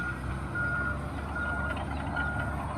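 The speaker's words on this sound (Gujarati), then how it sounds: "ટ્રક છે" A truck reverses at a riverfront construction site on the Saraswati river in Siddhpur, its backup alarm sounding repeated evenly spaced beeps over a low engine rumble and outdoor background noise.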